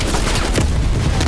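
A grenade blast in the video game Call of Duty Black Ops Cold War, a loud, close burst of explosive noise amid gunfire, filling the whole short moment with no speech.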